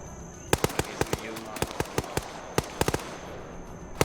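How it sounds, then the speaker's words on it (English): A string of sharp, rapid bangs from an Arma 3 military game firefight, spaced through a few seconds with uneven rhythm, a grenade blast among them, with faint talk underneath. "I guess that was a lucky grenade"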